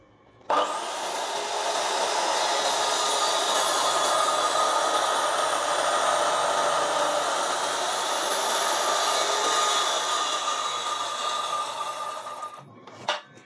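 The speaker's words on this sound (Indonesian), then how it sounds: "Kita akan bevel cut pada balok kayu meranti." A Dongcheng DMY185 circular saw makes a bevel cut through a meranti wood beam, a loud, steady whining rasp sustained for about twelve seconds before the blade spins down with a brief clatter.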